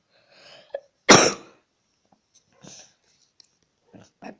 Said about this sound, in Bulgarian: трябва да кашлям, защото съм болен